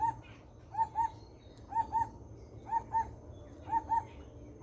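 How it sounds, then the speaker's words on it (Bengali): Repeated bird calls at Chintamani Kar Bird Sanctuary near Kolkata, India, paired clear notes recurring about once a second, over a low steady background rumble; no voices. "কত সুন্দর পাখির ডাক শুনতে পাচ্ছেন"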